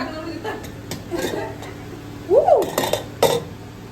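Hot red khichdi stirred in a pot with a ladle, giving a few scraping and clinking strokes against the metal, with a louder burst of scraping near the end and faint kitchen noise between.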